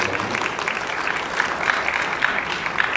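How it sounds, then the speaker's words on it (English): Steady, full applause from a conference audience at the WiLAT morning session of the CILT Africa Forum 2023, with even, continuous clapping throughout and no gaps. "Please appreciate our round of applause"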